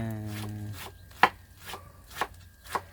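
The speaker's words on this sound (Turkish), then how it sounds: "ince ince ne kadar ince doğrarsak o kadar lezzetli ve güzel olur" Vegetables being finely chopped for kısır salad, probably a knife on a cutting board, with a few separate sharp chops spaced about half a second apart. Each chop is fairly quiet, and a brief low hum sounds at the start.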